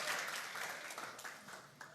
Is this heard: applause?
yes